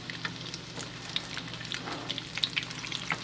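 Cheesy chicken potato cutlets frying in a pan, a steady close sizzle with crackling oil spits and faint stirring clicks, no voices.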